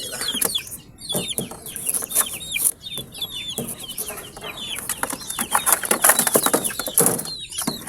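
Gilmore Hatch gamefowl chickens clucking in a farmyard, many overlapping calls and short squawks at close range, busy and continuous, with no voices over them.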